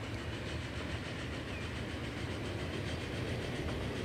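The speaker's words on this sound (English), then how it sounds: "Let's take a quick ride on this train to check it out." A train rides along the rails in the Transport Fever 2 video game, a steady rumbling roll with faint rhythmic clatter, fairly quiet and continuous with no talk.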